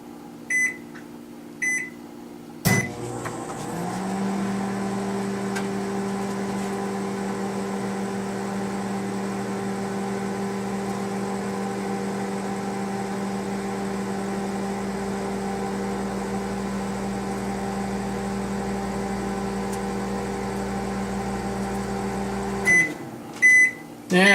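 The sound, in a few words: microwave oven running, heating an egg cup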